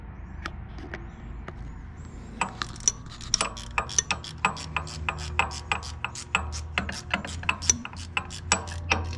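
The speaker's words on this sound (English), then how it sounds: "Tightening it up on this hydraulic tube." A clamp is ratcheted tight on a hydraulic tube during an alternator change on a 6100 tractor, a quick series of sharp metallic clicks speeding into a steady rhythm, fairly close and alone.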